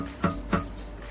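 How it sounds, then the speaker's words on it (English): Two dull, muted guitar plucks sound in quick succession, short and deadened with almost no ring. "it'll just mute out the string, making it sound like this."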